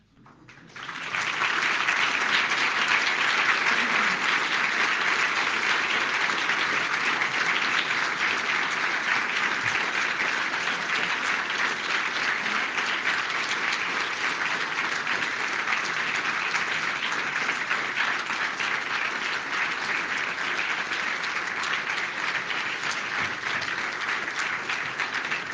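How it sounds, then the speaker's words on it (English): A large audience at a programming-languages conference awards ceremony gives sustained applause for award winners, dense and loud, rising quickly and holding steady for over twenty seconds with no one speaking. "would you care to come up and let us applaud you?"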